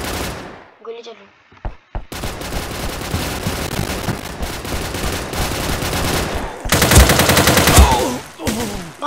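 Gunfire in a multiplayer shooter video game, with bursts of rapid automatic fire and single shots, loud and close, mixed with game effects and a dense background.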